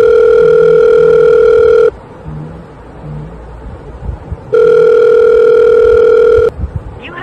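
A telephone dial tone heard while placing a call back to a delivery man: a loud, steady tone plays for about two seconds, gives way to quieter beeps, then returns for another two seconds.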